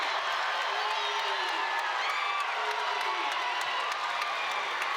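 A crowd of about 4,000 at a Texas Tech Lady Raiders versus Kansas women's college basketball game roars and cheers after a blocked shot, a loud, sustained wash of whoops and shouts with an announcer's voice running underneath.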